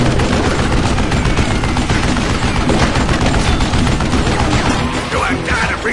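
Dense Western-style gunfire from Call of Juarez: Gunslinger, with loud, rapid, overlapping shots and bursts that never let up, close and intense, and a voice mixed in beneath the barrage.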